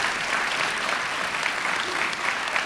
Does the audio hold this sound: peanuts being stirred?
no